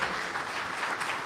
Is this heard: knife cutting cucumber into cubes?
no